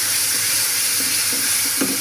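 Taro stolons sizzle and fry in a hot pan with a steady close hiss, broken by a few faint stirring clatters.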